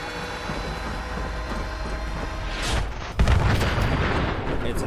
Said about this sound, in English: It's a huge explosion